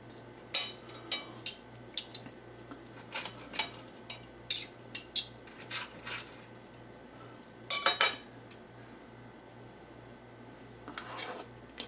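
Metal cutlery scrapes and clinks against a plate while cutting into a poached egg, a series of short sharp taps and scrapes close by, with a steady low hum underneath and no talking.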